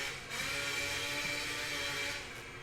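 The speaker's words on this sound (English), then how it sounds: "Sounds like a chainsaw." A chainsaw running somewhere in the distance, a steady, faint droning buzz that holds an even pitch throughout and swells slightly near the start.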